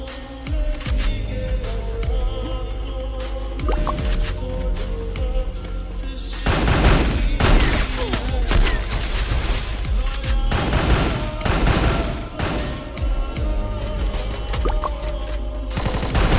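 Gunfire from the video game Free Fire: rapid automatic bursts and scattered shots, loud and dense, thickening into heavy overlapping fire about midway through with no talk.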